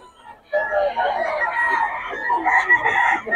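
Chickens and roosters at a Bocaue market crow and cluck together in a busy, steady chorus with people talking over them.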